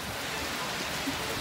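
Heavy rain pours steadily during a Miami storm in June, a dense, even hiss close by with no pauses.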